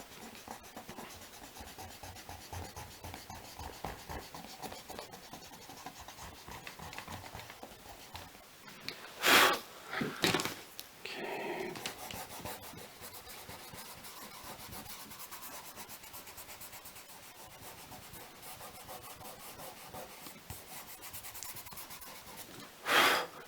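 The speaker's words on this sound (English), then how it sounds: "I'm using the eraser to carve that out" A pencil eraser scrubs paper while shading facial features in a drawing, with a steady soft rasping through most of the passage, a few sharper, louder rubbing bursts near the middle, and one more at the very end.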